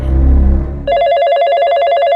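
A telephone bell rings loud and close in a rapid warbling trill after a brief burst of low music, continuing steadily to the end.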